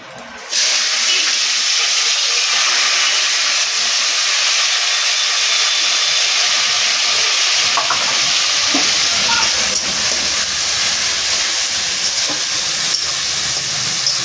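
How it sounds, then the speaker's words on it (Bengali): Onion frying in hot oil for a steamed egg curry, giving a steady, loud broadband sizzle and hiss that starts abruptly and continues unbroken near the pan, with no voices. "বাকি যে পেঁয়াজটা আমি রেখেছিলাম, বলেছিলাম তেলেতে দেব, এটা আমি ভেজে নেবো"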